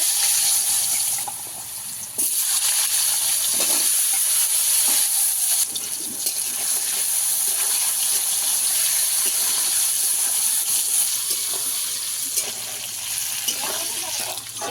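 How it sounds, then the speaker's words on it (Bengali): Cut potatoes fry in a pan with a little turmeric for a vegetarian broccoli dish, giving a steady, close sizzling hiss that runs unbroken throughout, with faint stirring and no talking. "এবারে কেটে রাখা আলুগুলো ভেজে নেব"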